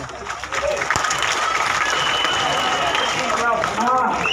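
An audience applauding in a hall, a dense wash of many hands clapping at once that holds steady for several seconds, with crowd murmur and a voice speaking over it.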